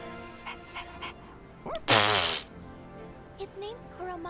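Koromaru, the dog in the video game Persona 3 Reload, lets out a loud, bright bark-like burst lasting about half a second, with a few softer yips and whimpers before and after, over quiet game music.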